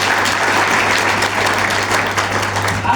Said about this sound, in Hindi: ताली बजा दीजिएगा।